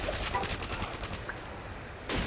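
Scar-H gunfire in the video game Modern Warfare 2, dense rapid shots blending into a loud continuous burst of fire with a fresh burst near the end.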